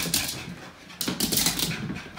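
A dog panting and whimpering in short, breathy bursts at close range, straight after a walk on a freezing cold day, with the sound swelling in the second half.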